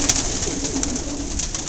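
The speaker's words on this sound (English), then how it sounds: "I'm going to grab some pigeons and read some band numbers." Pigeons coo in a large pigeon loft with hundreds of perches and a grid floor, a continuous, fairly close murmur of soft cooing and occasional wing or perch noise, with no speech.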